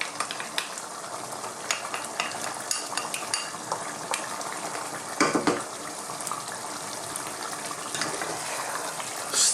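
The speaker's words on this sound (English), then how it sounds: "Stir that in." Pureed tomatoes being stirred into a sizzling garlic and herb sauce in a pan, a steady frying hiss with scraping spoon strokes and occasional clinks, close and continuous.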